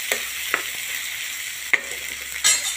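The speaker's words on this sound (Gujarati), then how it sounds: "હવે આપણે મકાઈ નાખી દઈશું। આને 10 મિનિટ સુધી આપણે આવી રીતે શેકવાના છે।" Corn kernels and tomatoes roast in a pan for corn masala Maggi, with a steady close sizzle broken by a few sharp clicks and scrapes from stirring.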